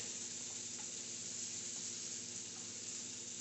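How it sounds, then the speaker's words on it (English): Shrimp scampi sears in a pan with Papa John's garlic butter sauce, a steady, close hissing sizzle that carries on without a break. "So I'm gonna get this sear on this other side"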